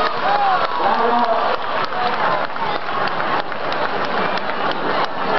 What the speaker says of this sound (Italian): Accogliamolo con un grosso applauso Alberto Garza.